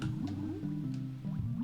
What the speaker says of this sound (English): I like doing the butt dive into the water into a beautiful breaststroke.